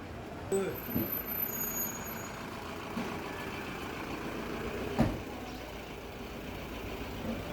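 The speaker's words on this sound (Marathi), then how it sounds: "मी बघतोय ना इथे तर बरेचसे टेम्पो, ट्रक, मोठमोठे ट्रक्स हे कंटिन्यू इथे त्यांची इकडे ये जा होतच आहे" Traffic hum of trucks and tempos moving through a Bhuleshwar market street in the morning, with an engine rumble, a brief hiss and a thump near the middle, and faint high beeps early on, all under general street noise.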